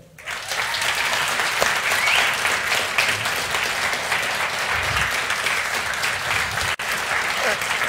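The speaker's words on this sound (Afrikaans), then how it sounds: "klap met hande" A church congregation claps together in a sustained, steady burst of applause that fills the room. A brief gap comes near the end, then the clapping carries on.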